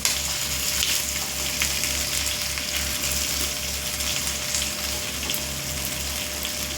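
Pomfret fish frying in oil in a pan, a steady dense sizzle with a low rumble running unbroken and fairly loud throughout, with no voices.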